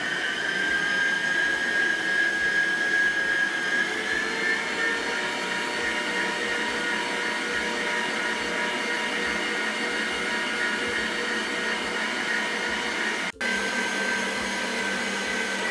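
An electric mixer beats cake batter for a fluffy marshmallow-style cake, a continuous steady motor whir with a high whine, holding at even loudness throughout with one tiny break near the end.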